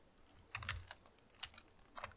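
Keys clacking on a computer keyboard during a hacking exercise, a few quiet, irregular taps and short bursts of typing with no speech.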